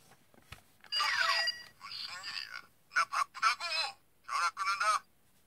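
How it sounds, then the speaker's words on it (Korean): A Kamen Rider Den-O DX Climax phone toy, with button 1 pressed to place a call, plays a short electronic tone followed by bursts of a recorded character voice, coming through in clipped, quiet segments. "모모타러스 이미진과 통화하는 걸 한번 해볼게요. 1번 누르고 통화를 하면요"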